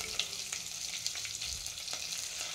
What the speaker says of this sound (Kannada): ಬೆಳ್ಳುಳ್ಳಿ ಕೂಡ ಸ್ವಲ್ಪ ಪ್ರಮಾಣದಲ್ಲಿ ಫ್ರೈ ಆಗಬೇಕಾಗುತ್ತೆ